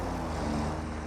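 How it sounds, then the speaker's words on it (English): A tractor vehicle in the factory-building game Satisfactory drives past, giving a steady, low mechanical engine drone with a constant hum and no break in the roughly one-second span. "that tractor's coming back. Get out of his way."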